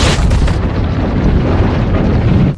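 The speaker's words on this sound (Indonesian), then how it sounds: "gedung rumah sakit pun runtuh karena ledakan itu" A building explosion in an action film brings down a hospital with a loud, sustained roaring blast, dense and rumbling from start to finish with no voices over it.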